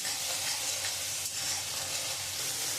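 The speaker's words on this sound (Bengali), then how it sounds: "আমি এবারে মশলাটা দিয়ে খুব ভালো করে কষিয়ে নেব।" Spices with cumin powder and chili powder frying hard in a pan, a dense, even sizzle that holds steady close up, with no one talking.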